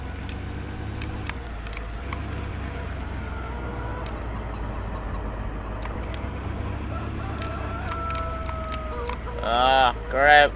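Chickens in the Farming Simulator 17 video game cluck and crow steadily over a low engine-like drone, with a louder burst of clucking near the end.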